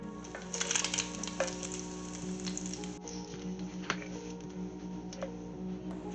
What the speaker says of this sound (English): So now I'm going to cook up the bacon.